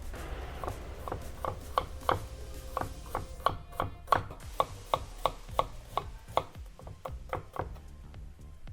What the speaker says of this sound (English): I'm gonna mince this as fine as I can